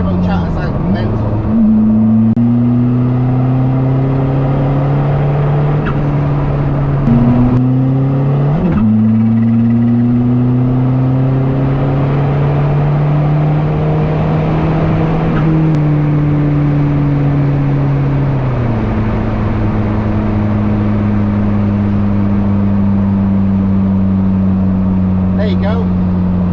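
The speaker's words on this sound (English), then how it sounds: "Turbo chatter sounds mental." Diesel-converted Toyota MR2 accelerating hard through the gears, its engine note climbing steadily with brief dips at each shift and turbo chatter between, loud and continuous with someone talking over it throughout.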